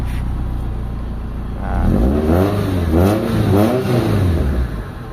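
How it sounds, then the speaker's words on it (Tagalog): A Mitsubishi Lancer GSR engine with an idle fault runs close and loud at a steady idle, then its pitch climbs and wavers as the revs rise and hold higher while the steering wheel is turned. "tumataas yung idle natin pag iniikot yung steering wheel"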